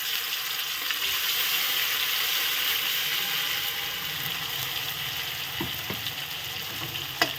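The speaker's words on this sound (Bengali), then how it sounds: "মুগ ডালটা সুন্দর ভাজা হচ্ছে" Moong dal frying in a pan while a homemade moong kosha dish is cooked, giving a steady close-up sizzle with a few clinks toward the end and no talking.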